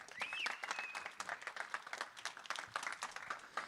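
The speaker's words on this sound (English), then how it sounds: "round of applause for yourselves" A summit audience gives a faint, distant round of applause, a dense patter of many hands clapping steadily throughout.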